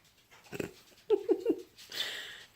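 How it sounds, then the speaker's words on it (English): A dog close by gives short breathy sniffs and snuffling huffs in a quick cluster, fairly soft, heard in a quiet indoor room with no talking. "the dog is in here"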